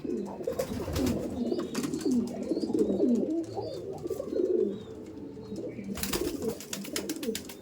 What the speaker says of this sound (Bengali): সব পায়রা অ্যাক্টিভ সবসময় মস্তি করছে ডাকছে মারামারি করছে